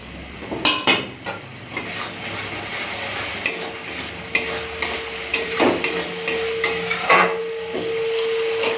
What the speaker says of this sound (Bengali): টমেটোটাকে দিয়ে দেবো দিয়ে দিচ্ছি টমেটো